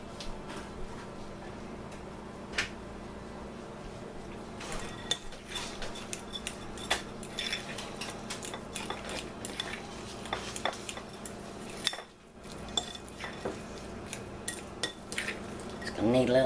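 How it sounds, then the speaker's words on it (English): Spoon stirring milk into potatoes for twice-baked potatoes, a steady run of scraping and clinking against the bowl with irregular taps and clacks, close and fairly quiet, no voices. "So I'm going to add little bits at a time and stir it up and see."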